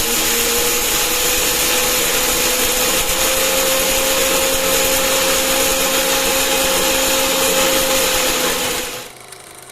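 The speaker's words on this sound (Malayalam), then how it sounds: "നമുക്ക് മിക്സിയിലിട്ട് ഒന്ന് പൊടിച്ചെടുക്കാനുള്ളതാണേ." Mixer grinder pulverising roasted ration-shop wheat in its jar, a loud, steady whine and grinding roar running continuously for about nine seconds before cutting off abruptly near the end.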